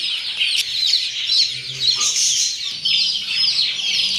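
Chicks and hens in a cage keep up a dense, steady chorus of high chirps and peeps, loud and close, with occasional lower clucks underneath.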